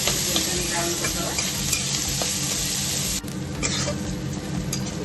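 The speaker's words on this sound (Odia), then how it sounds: "ମିଡ଼ିୟମ୍ ସାଇଜ୍ର ପିଆଜ ପିଆଜଟା ଟିକେ ଗୋଲ୍ଡେନ୍ ବ୍ରାଉନ୍ କରିଦେବା।" Medium onions fry in a pan until golden brown, a loud, dense sizzle and crackle that runs steadily with stirring noises mixed in.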